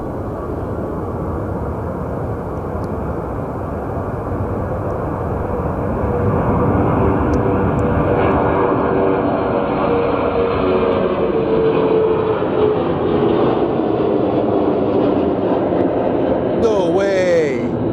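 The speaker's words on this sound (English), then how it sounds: "Oh, look at it, military plane." A military jet taking off from Sky Harbor Airport, its engines building into a loud, sustained roar that swells and holds steadily through the clip, heard close at an outdoor airfield.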